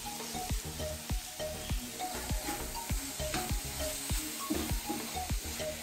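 Chicken pieces fry in a pan of cooked tomato masala for a sandwich filling, with a constant close sizzle and the regular scrape and knock of a spoon stirring the mix.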